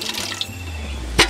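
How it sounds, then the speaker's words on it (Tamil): Water runs steadily from the tap of a DIY rocket stove water heater into a bucket, a close, continuous splashing stream lasting about a second. "இந்த வாட்டர் டேப்பை ஓப்பன் பண்ணி இந்த பக்கெட்டில் வந்துட்டு நம்ம பிடிச்சிக்கலாம்"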